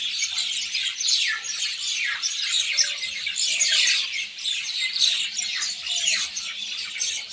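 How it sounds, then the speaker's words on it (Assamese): A flock of birds chirps, tweets and squawks continuously and close by, many overlapping calls forming a busy, unbroken chorus with no talking. "চৰাই মাত শুনিবলৈ পাই নাপাওঁৱেই, কিন্তু আজি মোৰ নিজেও ভাল লাগিছে চৰাইখিনি দেখি"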